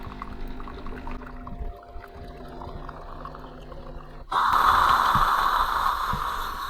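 A Bosch Tassimo Suny coffee machine runs a rinse cycle with low mechanical humming, then a sudden louder rush of water spraying through and pouring into a container, steady and close.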